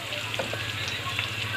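Whole cumin seeds sizzle in oil with browned onions and a little coriander powder, a close, steady frying hiss broken by a few soft stirring scrapes over a brief moment.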